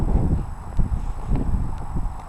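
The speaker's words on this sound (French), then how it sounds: "c'est des chevaux, ça." Horses clip-clopping along a dirt road, a run of soft hoof thuds at a steady walking pace, muffled under wind noise on the microphone.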